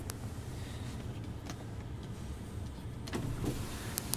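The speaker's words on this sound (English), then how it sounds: "There goes the sunroof." The power sunroof motor on a 2010 Ford F150 FX4 hums steadily as the roof opens, a quiet mechanical whine inside the cab with a few faint clicks and no talking.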